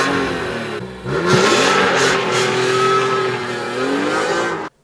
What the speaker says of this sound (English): the US domestic market E46 M3s suffer from terrible Honda Civic-esque